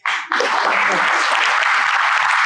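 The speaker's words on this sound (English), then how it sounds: "now you can clap because we want to salute his outstanding staff as well" A crowd at an awards luncheon bursts into applause after a short lead-in. The clapping is dense, sustained and fairly loud, spreading evenly across the room.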